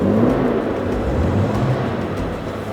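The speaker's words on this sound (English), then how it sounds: "Let's give it a bit of revs." A restored classic Aston Martin DB5 engine revs steadily up close, a loud continuous rumbling roar with no one talking over it.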